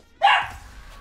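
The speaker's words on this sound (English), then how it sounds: "my dog just started barking like crazy" A dog lets out a single sharp, loud bark that quickly fades, leaving only faint background noise.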